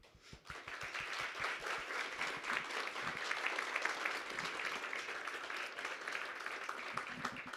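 An awards ceremony audience applauding an award winner, a dense sustained wash of clapping that swells after a few opening claps and carries on steadily.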